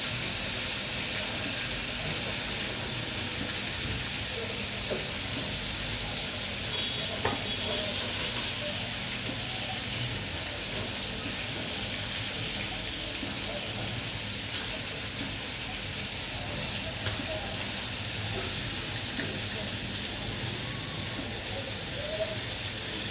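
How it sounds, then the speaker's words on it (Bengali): A large poa fish fries in a pan with a steady, even sizzle and hiss that runs unbroken throughout. Faint occasional ticks and spatters rise above the bed of frying noise. "মাছটি ভাজা হোক"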